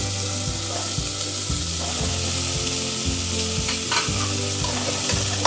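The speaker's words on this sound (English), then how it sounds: "Again toss it up for 1 to 2 minutes." Cauliflower florets, carrots and beets tossed and sizzling in a pan for mixed vegetable soup, with a steady loud sizzle and regular rhythmic tossing knocks about every half second, close up.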